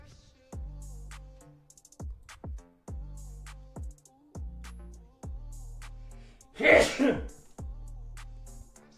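A single sharp sneeze bursts out once over a quiet, rhythmic background of low thumping beats during a live prop-trading stream.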